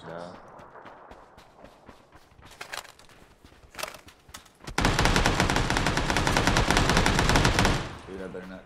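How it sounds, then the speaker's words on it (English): Gunfire in the battle royale game PUBG on the Sanhok map: sparse single shots early, then a long, loud sustained automatic burst lasting a few seconds, with people talking quietly around it. "He shot me from the window."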